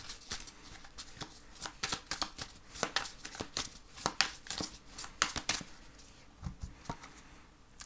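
Tarot cards shuffled by hand at close range: a steady run of quick, crisp riffling slaps and flutters, with no talk over them.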